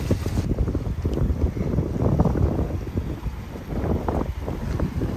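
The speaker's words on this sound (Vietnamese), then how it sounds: "giờ gió quá trời gió" Strong gusty wind buffets the microphone at a waterside spot where oysters, crabs and catfish are gathered, steady and loud throughout with no one talking, as rain approaches.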